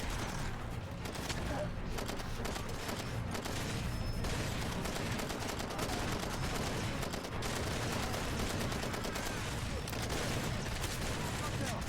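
Gunfire in Far Cry 2: sustained, dense bursts of automatic rifle fire and scattered shots crackle nonstop through the scene, fairly close and busy, with no pauses.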